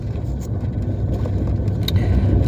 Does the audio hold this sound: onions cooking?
no